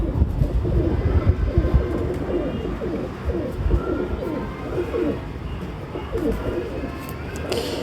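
Patti pigeons coo close by in low, repeated throaty rumbles that overlap almost continuously, fairly loud, with a brief rustle near the end.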